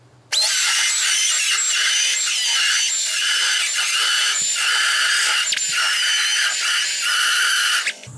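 A carbide bit in a power tool cuts out spot welds on a 1960-66 GMC/C10 truck cab, a loud, steady high-pitched grinding whine held for about seven seconds with slight pitch wavers, close and alone.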